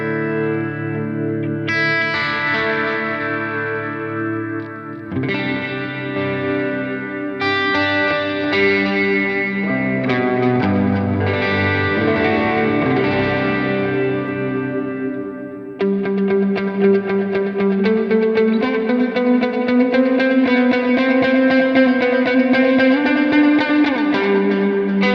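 An electric guitar played through a Line 6 POD Go preset with hall reverb and effects rings out in sustained chords and notes, loud and alone, with long washy tails between changes.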